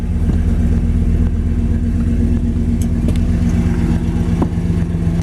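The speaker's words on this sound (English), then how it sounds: "He's got dual exhaust added to it." A 1962 Chevrolet Bel Air resto-mod with added dual exhaust idles at close range, a deep, steady rumble with a loping pulse and a few light clicks, no talking.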